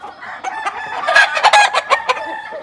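Fighting roosters of a new Lechuzo line at a farm crow and cluck close by, a series of loud, raspy calls rising and falling in quick bursts with no talk.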